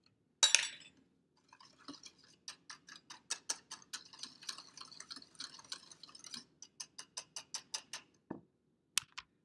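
A spoon stirring vanilla into a homemade ice cream base makes faint, quick clinks and taps against the bowl in an irregular rhythm, in an otherwise quiet room.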